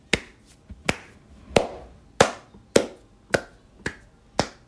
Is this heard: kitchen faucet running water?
no